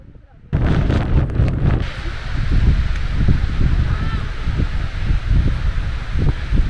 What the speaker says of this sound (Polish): jak halny, wiatr halny jest niebezpieczny